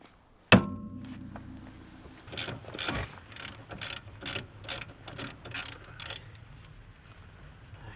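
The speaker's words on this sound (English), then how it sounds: "you can put the castle nut on upside down and then use a hammer" A hammer strikes a castle nut threaded upside down on a steering knuckle during steering removal on a Jeep, one sharp loud metallic hit followed by a series of about nine evenly spaced, fainter metallic taps.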